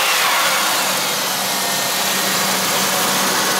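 A car engine runs steadily under an open hood after a Bars Tru Blu head gasket sealer repair, a continuous close, even idle hum without voices.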